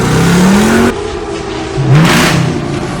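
Car engine with its exhaust valve open revs hard and loud, rising in pitch, dropping to idle, then blipping again in a second shorter rev.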